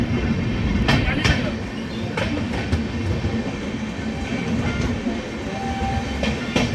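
An intercity express train in Bihar runs at high speed on its way to Muzaffarpur, giving a loud, steady roar and rumble with a few sharp clacks from the rails.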